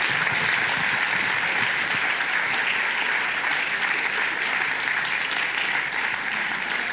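Audience at a startup demo day applauding continuously, a dense, loud wash of clapping from a sizeable indoor crowd that holds steady throughout.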